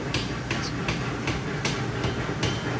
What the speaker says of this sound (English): Using that base of the hammer, just like that.